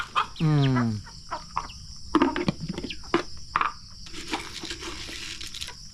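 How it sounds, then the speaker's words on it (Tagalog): A rooster crows once nearby, followed by scattered clucks and short calls from several chickens over a faint background hum. "Dito na yung mga manok natin"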